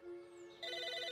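A telephone rings in the video game Psychonauts, with a steady electronic tone that shifts into a rapid trilling bell partway through, clear and alone with no talk.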